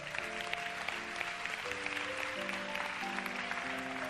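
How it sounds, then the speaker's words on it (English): A church congregation claps together in a dense, continuous wash of applause while a sustained organ or keyboard chord changes underneath, moderately distant and even in level. "Clap."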